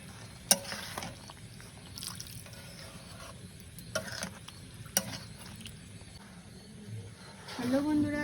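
Chicken being mixed with chili, coriander, turmeric and chicken curry masala in a pan for Chicken Kanti: soft scraping and stirring with faint sizzle, a few sharp clinks of a utensil against the pan, under quiet talking.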